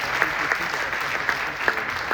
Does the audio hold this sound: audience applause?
yes